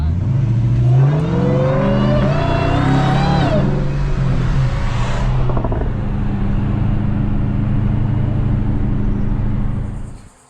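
A factory car engine revs up with a rising whine, then settles into a loud steady rumbling idle close by, with voices briefly under the engine noise.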